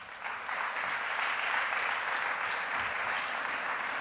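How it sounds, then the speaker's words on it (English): A conference audience breaks into steady applause for an introduced speaker, sustained clapping that fills the room at even strength for a few seconds. "Please give your applause to him"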